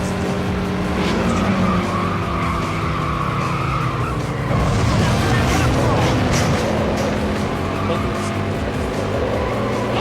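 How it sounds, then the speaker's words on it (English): Race cars power sliding in the Hot Wheels Stunt Track Challenge game on PS2, a continuous engine drone with long tire squeals and skidding, loud and steady throughout. "If you power slide here, you'll hold the rope better."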